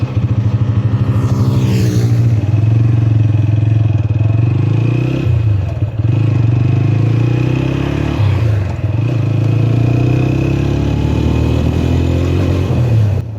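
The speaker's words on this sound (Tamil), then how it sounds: "இப்போ நான் வந்து பைக் வந்து ரன் பண்ணி காட்டுறேன்." A TVS Apache RTR 160 V4 motorcycle runs close by, a loud, steady engine drone with a few revs that rise and dip in pitch, and no voices over it.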